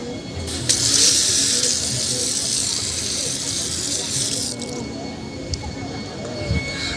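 A water tap runs in a steady broadband rush while hands and feet are washed outside the Jagannath temple at Digha, louder at first and then easing off, with voices and outdoor bustle underneath.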